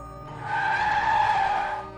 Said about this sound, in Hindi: सलीम ने ज़ोर से ब्रेक लगाई